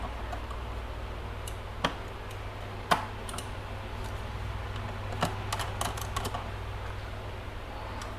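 Small plastic clips on an Evo X gauge pod snap into place, giving a handful of scattered sharp clicks and taps over a steady low hum, close by, with no talking.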